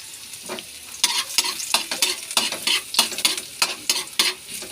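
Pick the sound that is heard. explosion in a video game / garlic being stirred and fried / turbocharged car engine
garlic being stirred and fried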